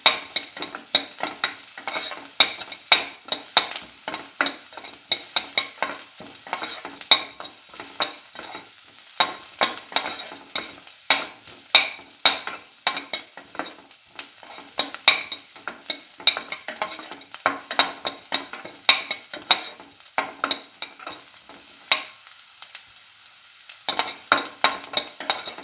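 Onions sautéed in a pan until soft and golden, stirred continuously with a spoon; dense, rhythmic scraping and clinking strokes ride over a low sizzle for the whole stretch, with a short pause near the end and no voices.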